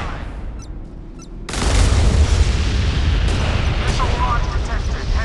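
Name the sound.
enemy missile launch in naval video game Modern Warships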